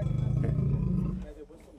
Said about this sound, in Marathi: पिंजऱ्यात हा बिबट्या पुन्हा अडकलाय